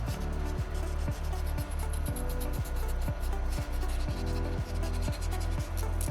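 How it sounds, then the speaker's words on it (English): Steady back-and-forth rasping of No. 2 sandpaper sanding a small soapstone Moai carving, close and continuous with a regular stroke rhythm and no talk. "So it's easier for me to erase those little scratches with sandpaper number 2."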